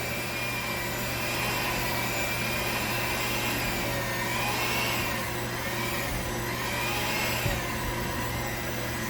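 An electric mixer beats lemon cake batter in a bowl, a steady, loud motor whine that runs unbroken for the whole stretch with no talking.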